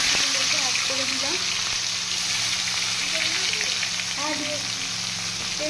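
Chopped tomatoes hit hot oil in a wok and fry with a steady, continuous sizzle, close and fairly loud, while a voice speaks briefly over the cooking.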